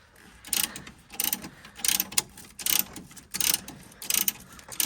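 A spring compressor being tightened on a Land Rover Discovery 2 coil spring during a lift install, repeated ratcheting bursts in a steady rhythm, close and moderately loud, with short pauses between.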